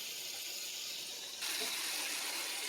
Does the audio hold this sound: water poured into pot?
yes